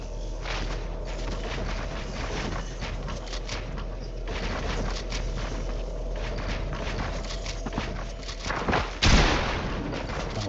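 A single sharp gunshot cracks near the end of a video game 1v1 match, rising out of steady, rumbling in-game ambience and battle noise.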